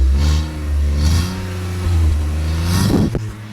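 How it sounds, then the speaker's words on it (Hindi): A petrol car fitted with an aftermarket exhaust system, recorded in Delhi, revs up close to the microphone in rising, wavering engine pulls over a low rumble, with a short clatter near the end. "देखो अभी एक्सेलेरेट कर रहे हैं"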